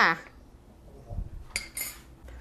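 A spoon scrapes and clinks against a bowl or pan while stirring a Thai stir-fry sauce of sugar, seasoning sauce, oyster sauce and water, a few soft taps and scrapes near and fairly quiet.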